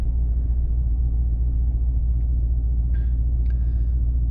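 A car idles at a red light, its engine a deep steady rumble close up, with a couple of faint chirps in the background near the end.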